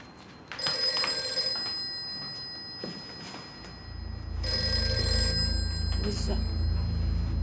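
A telephone bell rings in two loud bursts with a gap between them, while a low steady hum rises in the background partway through.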